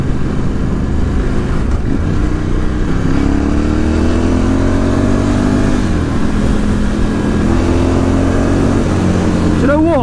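A 2018 Ducati Scrambler 1100 Special motorcycle engine pulls loudly and continuously, its pitch rising through the gears with brief dips at shifts, heard close over wind during a test ride.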